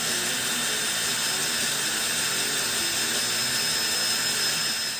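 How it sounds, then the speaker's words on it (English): A drill bores into a lead battery terminal with a continuous high-pitched whine, loud and close, steady for the whole stretch with no speech. "So I decided to drill it and then tap it."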